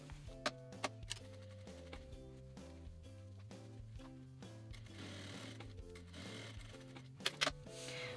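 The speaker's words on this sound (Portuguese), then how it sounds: "eu vou passar um pespontinho só pra segurar esse meu tecido de forro no lugar" A sewing machine topstitches lining fabric, up close, with a fast rhythmic mechanical hum that runs in short bursts and pauses, plus a few sharp clicks and taps between stitching runs.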